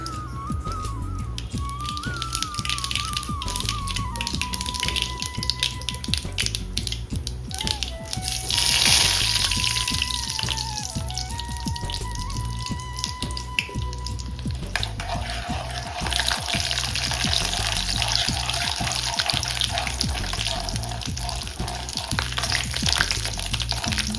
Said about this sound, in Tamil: கொஞ்சமாக த எண்ணெய் விட்டுட்டு இதில் வந்து கடுகு போட்டுக்கணும்